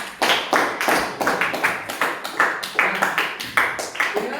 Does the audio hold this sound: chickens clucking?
no